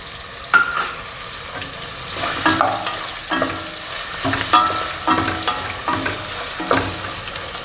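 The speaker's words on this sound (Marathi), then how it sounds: "आता मी त्यात किसलेलं ओलं नारळ घालत आहे" Grated fresh coconut being stir-fried into an ivy gourd rice masala, with repeated spatula scrapes and stirring knocks over a low, steady sizzle close by.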